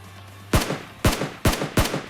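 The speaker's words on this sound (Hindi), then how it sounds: "पहले तो इसे 2 प्यारे से शॉट देते हैं।" Four sharp gunshots from a shooter video game, loud and evenly spaced about half a second apart, each with a brief reverberant tail.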